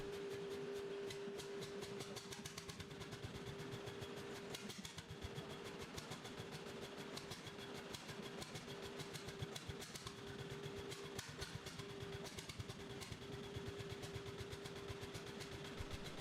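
A vintage single-cylinder RAP semi-diesel engine with a big flywheel running steadily after starting, a continuous rhythmic mechanical thrum with a constant hum, fairly faint and without voices.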